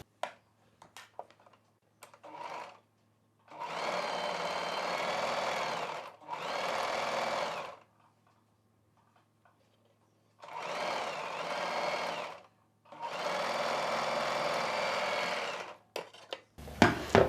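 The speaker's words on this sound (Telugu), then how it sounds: "ఈ కుట్టు పై వైపునే లైనింగ్ పీస్ని కూడా కలిపేసి ఇలా కుట్టు వేసేసుకోవాలంటే" A sewing machine stitches a lining piece onto a sleeve in four distinct whirring bursts of about two seconds each. Quiet pauses with small handling clicks fall between the bursts.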